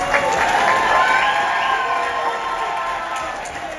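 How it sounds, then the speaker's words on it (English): A crowd at a celebration event claps for Kamini Dubé, a loud burst of applause with some cheering and whoops that slowly tapers, a faint voice mixed in. "So please give her a round of applause."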